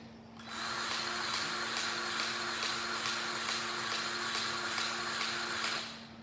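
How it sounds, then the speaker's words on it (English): A grease gun pumps grease into a truck's pivot pin, a steady mechanical whir with a faint pulsing rhythm that starts abruptly, holds, and stops cleanly, with no talking. "This one's taking a lot of grease."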